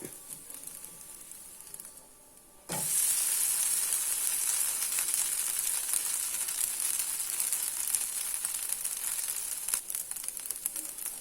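Banana stem dosa sizzling loudly and steadily on a hot pan, a bright continuous hiss that jumps up suddenly after a quieter moment and holds close and even to the end, with no voices.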